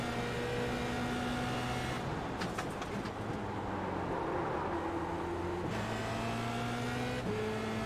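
Formula Renault race car engine in iRacing, a steady loud whine that drops in pitch at gear changes, with the revs climbing and falling several times.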